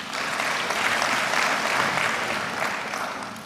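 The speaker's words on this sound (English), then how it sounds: "A round of applause for them, please." Audience applause at a graduation ceremony, a dense, sustained wash of many hands clapping from a crowd, steady and full before tapering slightly at the end.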